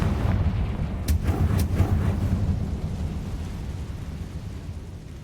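A Confringo fire spell blasts in Hogwarts Legacy, a loud rumbling explosion with a few sharp cracks early on, then a long low roar that slowly fades.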